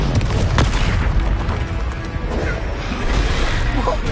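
A Confringo fire spell bursts in Hogwarts Legacy with a loud, sustained crashing boom and rumbling debris, filling the whole moment. A voice is heard faintly in the background.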